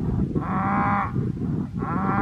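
A cow moos loudly and close in a French farm pasture, two long drawn-out bellows separated by a short pause, with no talking over them.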